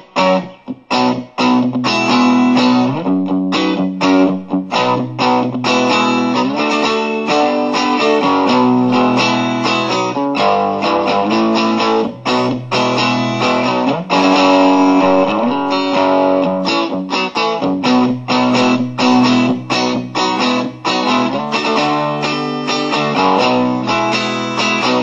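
Electric guitar in open G tuning, modelled through a Roland VG-99 to imitate a famous rock guitarist's sound; loud, continuous, slightly driven rhythm chords and riffs with choppy strums throughout, no voice.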